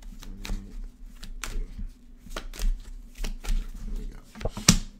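Playing cards shuffled by hand during a tarot reading, giving several short riffling bursts with a soft flutter, close to the microphone over a low background hum.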